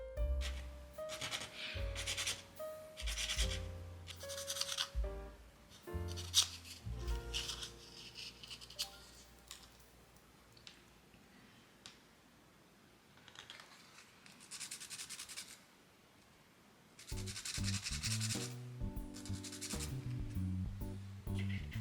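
Fine scratchy rubbing of sanding on tiny clay pieces, in short bursts with pauses and small taps between, close and quiet.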